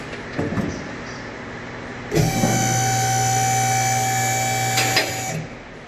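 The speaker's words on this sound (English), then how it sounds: "So I'm gonna let the vehicle down." A car lift lowers a 2007 Jaguar XJ in a repair shop, starting with a sudden clunk and then a steady mechanical whine and hum lasting about three seconds before it cuts off, with no talking.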